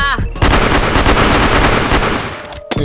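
Loud bursts of rapid gunfire in a competitive shooter video game, fired close up in a continuous volley for about two seconds before cutting off.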